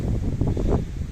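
Loud, blustery wind buffeting the microphone, a continuous low rumble with no voices.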